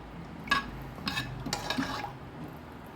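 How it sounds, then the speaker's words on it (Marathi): A metal spoon stirs turmeric-tinted water for puran poli, giving a few soft clinks and swirls against the vessel, close and quiet, with no voices. "आता चमच्याने एकदा असं मिक्स करून घेऊ"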